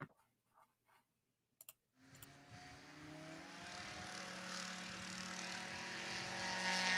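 A STOL airplane at a short takeoff and landing competition powers up for takeoff: after a few faint clicks and near silence, a propeller engine drone rises and builds steadily louder, heard from nearby.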